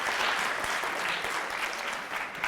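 Audience applause at a science talk, steady and full, with many hands clapping at once for the whole stretch, fairly close and loud.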